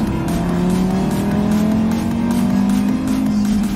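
A 5-cylinder Audi DAZA engine pulls hard under acceleration, its loud, steady drone with rising harmonics filling the clip close up with no talk.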